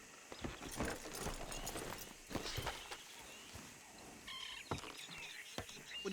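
Horse hooves clip-clop at a walking pace in Red Dead Redemption 2, a series of moderately close, uneven hoof strikes over soft ambient background with faint bird calls.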